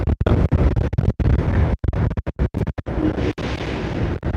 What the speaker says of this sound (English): This is definitely a windy day today.